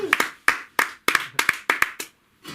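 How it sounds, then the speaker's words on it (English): A few slow, separate claps from a comedy club audience, about nine distinct close hand claps in an uneven rhythm before falling quiet. "Don't clap for me"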